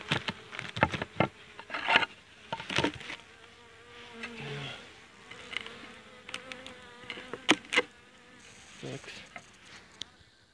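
Carniolan, Buckfast and Italian honeybees buzz inside an overwintering hive, a steady close hum with repeated louder bursts of buzzing and a few faint knocks on wood.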